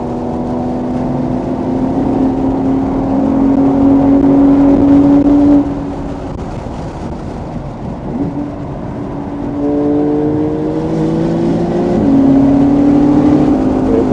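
A Camaro SS 1LE on a club track day at VIR, its engine loud and close as it pulls hard through the gears, the pitch climbing steadily and dropping at two upshifts.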